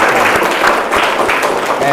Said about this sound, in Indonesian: kita kasih tepuk tangan untuk Saki dan Aceh.